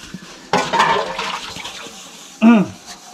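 Dishes, pots and pans being washed with running water in a village kitchen, with splashing and clattering bursts, a sharp scrape near the end, and a voice speaking at times.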